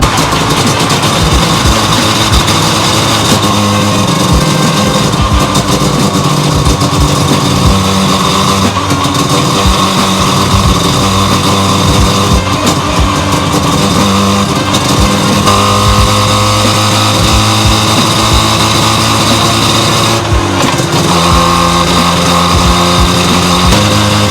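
A Mazda 2 fitted with a swapped 13B peripheral-port rotary engine and an MR2 gearbox idles loudly and choppily up close with a rough brap-brap pulse, blipping the throttle into sharper revs several times.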